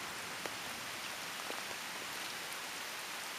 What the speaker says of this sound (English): like the rain's not really that heavy, but it really isn't that heavy